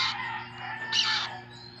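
A hungry pet bird cries out in a couple of loud, shrill, drawn-out calls close by, over a faint steady hum in the background.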